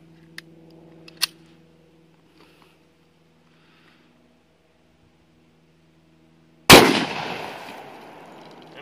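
A single sharp 10mm shot, a Nosler 135-grain jacketed hollow point fired into a water jug, bursts loud and close after a few faint clicks, followed by a splashing, decaying wash of water.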